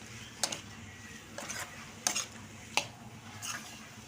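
A spoon scrapes and clinks against a pan while ridge gourd is mixed with tomato and onion in oil, giving a few irregular knocks over a faint sizzle.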